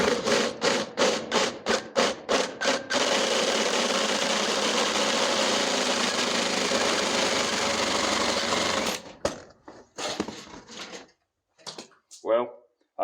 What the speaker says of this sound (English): I'm going to drill the tops of these off.